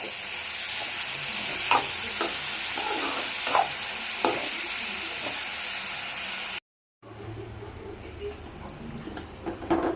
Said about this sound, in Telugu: పెసరపప్పు వేసి కలుపుతున్నాను